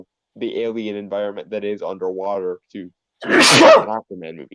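A single loud sneeze from a podcast host, breaking in close up after a stretch of talk, with speech resuming right after.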